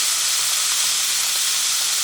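Leeks and onions hit a hot pan and give off a steady, bright sizzling hiss that holds evenly throughout, close up and with no voices.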